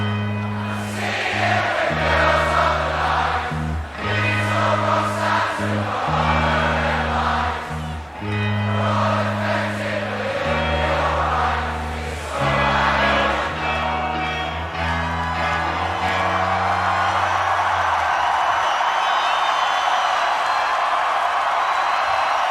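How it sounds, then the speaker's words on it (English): A concert crowd sings along loudly to a song, a dense mass of voices holding sustained notes over the music for about eighteen seconds before fading. "Crowd knows the song, that's for sure."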